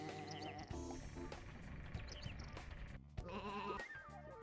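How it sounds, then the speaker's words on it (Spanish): Cartoonish sheep bleats from the video game Sheep Raiders sound in short repeated calls over busy, bouncy game music, with no talking. "Oveja."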